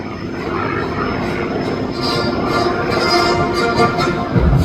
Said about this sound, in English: For his final maneuver, Mark will demonstrate the turn capability of the P-51 Mustang.